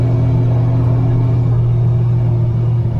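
A 1949 Rover P3 drives along a quiet road, its engine a steady, loud low rumble with a constant hum and no voices over it.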